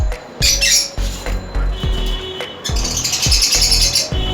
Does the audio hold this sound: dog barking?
no